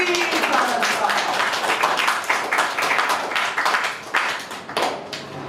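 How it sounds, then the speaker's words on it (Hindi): A group of schoolchildren claps in a classroom at a school branch in Mustafabad, a dense patter of many hands in uneven bursts that rise and fall, with voices mixed in. "क्लैप कर दी, क्लैप"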